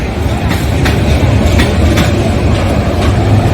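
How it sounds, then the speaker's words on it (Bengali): A local passenger train rolls past at a station in Bangladesh, loud and close, its wheels knocking out a regular clickety-clack over a heavy rumbling roar. "এই হলো লোকাল ট্রেন বাংলাদেশে"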